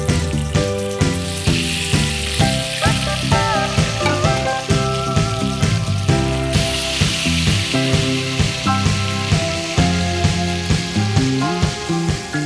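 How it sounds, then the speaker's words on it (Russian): Tomatoes fry in rendered meat fat in a hot pan, a dense, steady sizzle and crackle running loud and close throughout, with repeated light knocks as the pieces shift, and no voices. "Вот на этом жире и обжарим. Помидоры я жарю по единственной причине"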